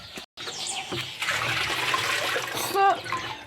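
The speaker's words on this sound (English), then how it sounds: "So he's pouring some IMO back in." IMO liquid is poured into a pig sty in a steady, trickling stream, with a brief gap near the start. Birds chirp in the background and a voice speaks over it.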